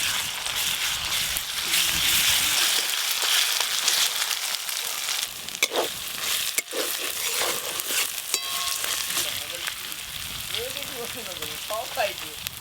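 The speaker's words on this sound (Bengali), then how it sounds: "পেঁয়াজ কুচির সাথে আদা রসুন বাটা দিয়ে সব কিছু একসঙ্গে ভাজা করব।" Chopped onion frying with ginger-garlic paste in a pan, a steady broadband sizzle running throughout with occasional stirring scrapes and clicks, close and fairly loud, with no talking.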